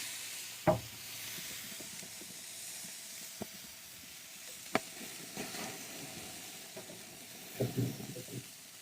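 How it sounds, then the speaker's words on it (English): Sausages, including a connected link, sizzle and spit in a pan over an open flame, a steady soft frying hiss broken by a few sharp pops and crackles. "I bet we can have the sizzle."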